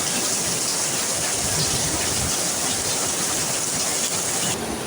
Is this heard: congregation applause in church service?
no